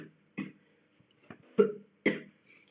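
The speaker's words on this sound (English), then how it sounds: "Sorry, I'm coughing a bit." A few short, rough coughs close to the microphone, spaced irregularly with quiet gaps between them.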